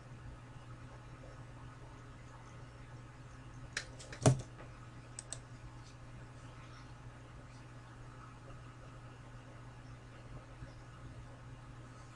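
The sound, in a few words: typing on a computer keyboard and hitting enter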